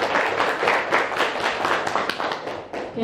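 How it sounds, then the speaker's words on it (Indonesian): Audience applause fills a school coordination meeting at SMKN 1 Dawuan, a vocational high school: dense, steady clapping from many hands, fairly close and loud, sustained for several seconds with no talking over it. "Bapak Ibu boleh tepuk tangan untuk kita semuanya."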